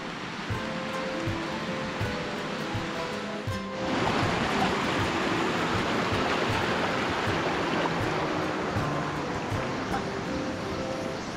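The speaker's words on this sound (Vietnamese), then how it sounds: "Nghe nước chảy thích thật." Steady rushing of a mountain stream beside the seven-tier Nả Háng waterfall in Tủa Chùa. The flow is broadband and continuous, growing louder and fuller partway through, with no talking.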